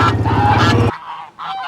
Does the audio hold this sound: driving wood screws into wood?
no